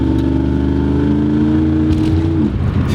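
Pontiac Firebird V8 with a mild cam idling close up, a steady low rumble with a slight uneven lope, then a brief dip in pitch near the end, with no talking.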